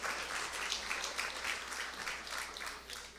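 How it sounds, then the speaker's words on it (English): An audience at a homebuyer workshop gives volunteers a soft, steady round of applause, a continuous patter of many hands heard at moderate distance without speech over it. "Let's give them a round of applause."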